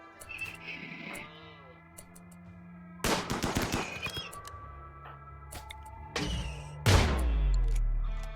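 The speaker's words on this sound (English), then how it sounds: "I didn't know they were close enough to actually shoot." Enemy gunfire in a RimWorld Royalty battle: sharp bursts of shots break out around the three- and six-second marks over steady game music, with a loud final volley near the end.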